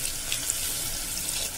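Water pours steadily into a pot of tomato sambar as a short, continuous splashing stream, close and alone.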